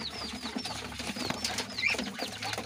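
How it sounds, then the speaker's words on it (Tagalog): Pigeons kept as flyers flap their wings in short bursts amid soft cooing and chirps, nearby and fairly quiet, with no one talking. "Ayan, mga ibon natin."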